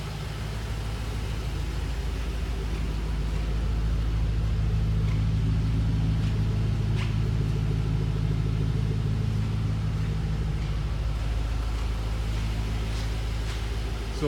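A 2007 Shelby GT Mustang's engine idles with a steady, deep rumble throughout, low and even with a slight throb, with no talking over it.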